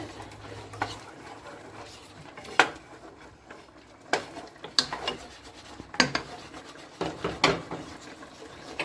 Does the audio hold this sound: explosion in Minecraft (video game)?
no